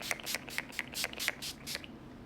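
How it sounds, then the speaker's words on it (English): A makeup finishing spray is pumped in a quick series of about seven soft, airy spritzes in a steady rhythm, close to the listener and fairly quiet. "And then Scandinavia Makeup Finishing Spray."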